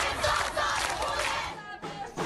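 Protesting students march down a street amid smoke and fire, chanting slogans together in a loud, dense crowd roar that drops briefly before rising again.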